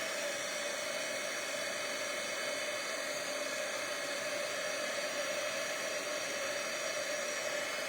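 An embossing heat tool blows hot air in a steady, unbroken whooshing roar with a faint motor whine, loud and close, running throughout with no talking.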